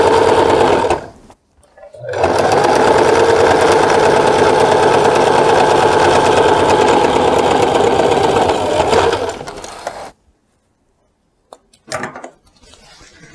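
Sewing machine stitches a pocket of a pair of wide-leg pants in one long, steady, close mechanical run of about eight seconds, followed by short clicks and a brief restart after a pause.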